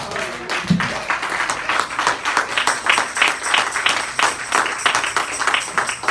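A church congregation applauds together during a Spanish-language Bible study service, giving sustained dense clapping at a steady level for several seconds with no talk over it.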